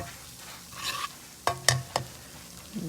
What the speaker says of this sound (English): we're just gonna saute this down a little